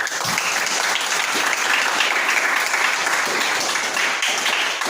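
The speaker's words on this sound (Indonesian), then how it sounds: "Tepuk tangan sekali lagi" Sustained applause from a group after a classroom presentation, dense and steady clapping filling the whole stretch at moderate loudness.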